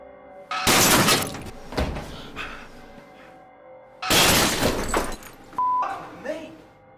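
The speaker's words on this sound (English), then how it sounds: "a fake woman's head crashes through the mirror, shattering it and leaving blood draining from her forehead" A bathroom mirror in a TV prank commercial shatters when a fake head crashes through it, giving two loud bursts of breaking glass with tinkling debris and thuds in between, and a short tone near the end.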